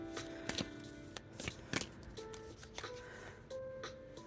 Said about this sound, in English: Let's shuffle the deck.